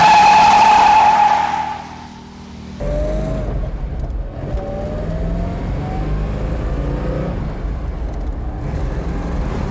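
A 1970 Dodge Challenger R/T with a 440 Magnum V8 fires up with a loud burst, then settles into a steady, close, rumbling idle with occasional light blips of the throttle.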